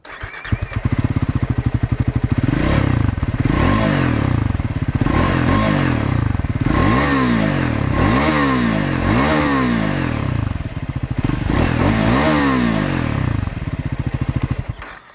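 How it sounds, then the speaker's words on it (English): Loud Triumph Scrambler 400X motorcycle engine running close up, its exhaust rising and falling through repeated revs with a throaty, pulsing rumble. "this is the Scrambler 400X, which has a different exhaust note"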